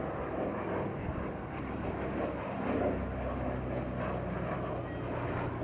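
Piston engines of a Douglas C-47 Dakota (DC-3) at an air festival display, a steady low droning roar with a slight swell near the middle, continuous and moderately distant.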